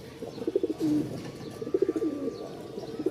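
White Danish pigeons, domestic birds offered for sale, coo in repeated soft throaty phrases with a few brief chirps, moderately close and with no talk over them.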